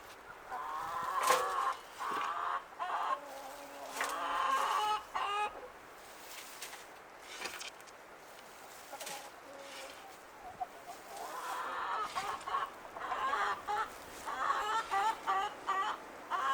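Chickens inside a chicken coop cluck and squawk in repeated close bursts, with quieter gaps between them and scattered rustling in the background.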